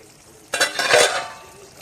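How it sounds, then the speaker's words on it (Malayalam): A spoon stirs through a thick simmering beef curry in a pot, a brief burst of scraping and bubbling after a quiet start. "നന്നായിട്ട് തിളച്ച് വന്നിട്ടുണ്ട് ഇനി ഇത് നന്നായിട്ട് ഇളക്കി കൊടുക്കാം"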